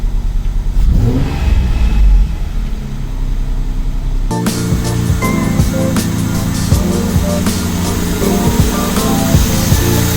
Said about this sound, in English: Here's the throttle opening. And we're up and running.